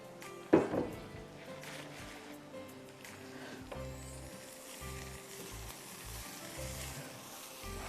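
Onions fry in a pan for chicken pulao with a steady, hissing sizzle that opens with a sharp clatter and carries on with faint stirring noises.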